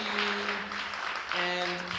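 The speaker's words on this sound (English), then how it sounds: "Round of applause for them." A seminar audience gives a short round of applause, a steady wash of clapping with voices talking over it.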